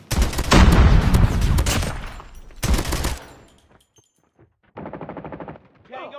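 Rapid automatic gunfire in the mobile shooter Call of Duty Mobile, loud bursts of sustained firing followed by a shorter burst and then quieter clipped shots and game sounds.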